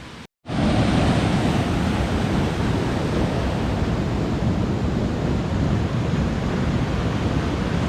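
Rapids on the Rio Melcocho in Colombia rush in a loud, steady wash of water close by, continuous from start to finish after a brief silent moment at the start, with no voices.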